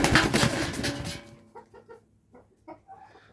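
A heavy broiler laying hen weighing about 6.5 kilograms gives a burst of loud flapping or scuffling up close, followed by several short, soft clucks.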